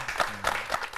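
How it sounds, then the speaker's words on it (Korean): A studio audience on a Korean business talk show claps in a brief, moderate burst of applause, with a low hum underneath. "박수 한번 보내주시고요"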